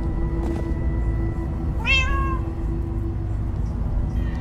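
A single clear cat meow rises and falls once in Minecraft: Story Mode, heard close over a steady, fairly loud game background hum.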